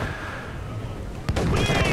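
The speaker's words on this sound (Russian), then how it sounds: "Покажу, как выстрелы выглядят" Gunfire in the pirate action game Assassin's Creed IV: Black Flag, with a loud burst of shots at about 1.3 seconds following a quieter stretch of game ambience.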